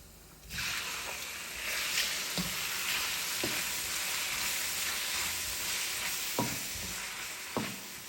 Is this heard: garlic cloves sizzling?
yes